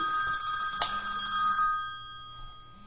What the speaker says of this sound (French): je coupe mon téléphone parce que je suis en live